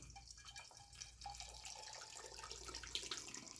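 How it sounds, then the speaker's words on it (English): Water pours steadily into a funnel to rinse powder down into a drink container, a soft, continuous trickle heard close but faint and alone, with no talking. "I follow it with some water so that it washes down the powder out of the funnel."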